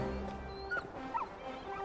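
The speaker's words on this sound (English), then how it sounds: "Quiet, Torgal. Stop it, boy." Dog whimpering and yipping in Final Fantasy XVI, a few short high whines over a steady game music and ambience bed, moderately close.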